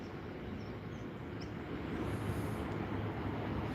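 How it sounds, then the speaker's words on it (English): A freight train passes far off, a faint, steady low rumble and rolling drone that swells slightly toward the end, heard alone without speech. "See that freight train across there?"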